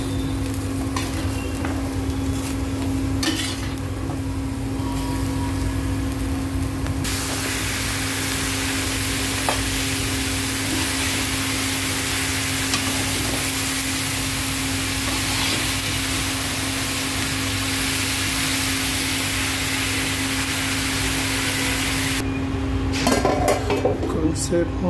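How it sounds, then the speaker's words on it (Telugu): Ridge gourd pieces tossed into a hot pan where chilies have been browning, with continuous loud sizzling and frying plus scraping and clanks of a spoon stirring against the pan throughout. "ఇప్పుడు బీరకాయ కట్ చేసుకున్న బీరకాయ ముక్కలు వేయాలి ఇందులో."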